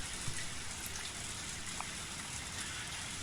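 Steady rain falls as a continuous, even hiss of dense droplets in the visual novel game Matsuribayashi, constant throughout with no talk over it.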